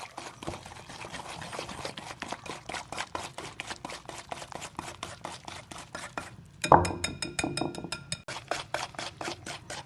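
Icing sugar and oil beaten together in a bowl for vanilla biscuits, giving rapid, steady rhythmic clinking strokes that continue throughout, with a brief louder clatter near the end.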